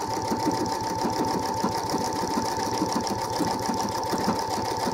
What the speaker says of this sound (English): So this is the standard walking foot. We'll run a few stitches down.